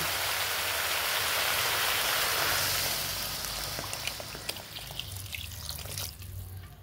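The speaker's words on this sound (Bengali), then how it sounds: "আর দিয়ে দিচ্ছি গরম জল" Hot water poured into a pot of soft vegetable khichuri makes a steady, rushing splash that gradually eases, followed by scattered drips and light stirring clinks near the pot.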